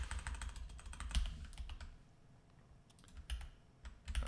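Quiet keystrokes on a computer keyboard, irregular bursts of clicks with short pauses, close and alone with no voices.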